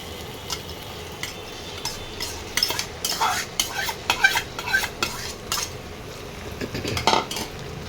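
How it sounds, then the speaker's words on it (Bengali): A spoon stirs fried jackfruit pieces through spice masala in a pan, making irregular scraping and clattering strokes against the metal over a soft sizzle, close up and with no talking. "এবার এঁচড়গুলোকে মশলার মধ্যে ভালো করে মিশিয়ে নিতে হবে।"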